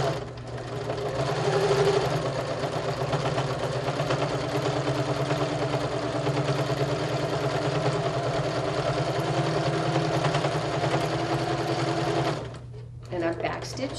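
A sewing machine runs steadily and loudly, stitching a quarter-inch seam on a fabric bag with a backstitch at the end. The continuous mechanical hum lasts about twelve seconds, then stops abruptly.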